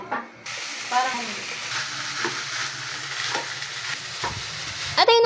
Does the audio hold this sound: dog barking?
no